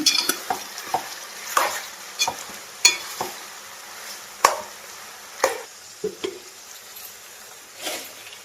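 Chicken pieces frying in a pan for a village-style chicken and fenugreek leaf curry, a soft sizzle under repeated sharp scrapes and knocks of a spoon stirring, roughly every half second to second.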